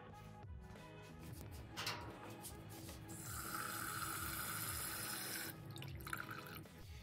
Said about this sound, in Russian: Дробление происходит в воде, поэтому мы сейчас добавим еще воды.